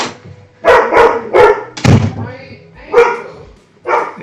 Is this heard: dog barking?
yes